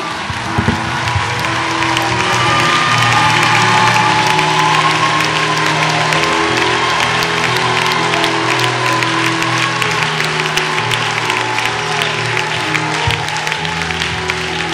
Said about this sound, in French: On nous applaudit, bon Dieu.